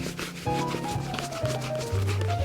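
Oily leather cream is worked hard into a pair of worn Tricker's leather shoes, making a steady, close dry rubbing and scuffing under background music.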